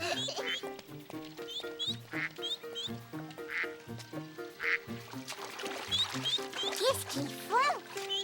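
Ducks quacking in a French children's cartoon scene, repeated short nasal quacks in irregular bursts mixed with music and background sound effects, fairly close and moderately loud.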